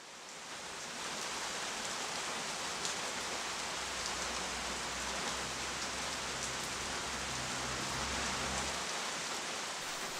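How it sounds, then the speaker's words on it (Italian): Steady rain falling in a mountain setting, a dense, even hiss of drops on surfaces that holds constant throughout with a faint low rumble underneath. "Piove"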